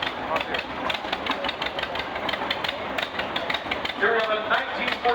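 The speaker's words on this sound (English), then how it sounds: "here is the R's little brother, the 1951 John Deere AR" A restored 1951 John Deere AR tractor runs in a steam show parade, its engine pulsing in a steady, rapid chugging rhythm, with a voice talking over it.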